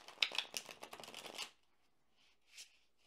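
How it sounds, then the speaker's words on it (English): A quick riffle of tarot cards being shuffled for about a second and a half, then near silence with one soft brush of cards. "We're going to shuffle the cards"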